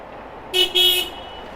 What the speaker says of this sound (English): I think that car was honking at me.